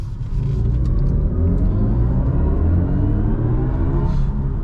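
Synthetic spaceship-like driving sound from a 2024 BMW i4 M50 electric car, a loud, steady humming drone with rising layered tones that swell continuously throughout, no voices.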